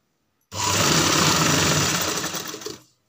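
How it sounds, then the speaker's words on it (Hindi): A sewing machine runs steadily while stitching a box-pleated frock, a loud, continuous whirring burst lasting about two seconds that starts abruptly and tapers off near the end. "इस तरह से हमने यहाँ जहाँ तक हमारा कट है वहाँ तक हमने इसमें अच्छे से सिलाई डाल देनी"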